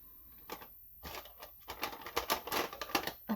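Crayon grinding in a pencil sharpener, heard as a run of scratchy, clicking bursts that start sparse and grow denser and louder toward the end, with no voices over it.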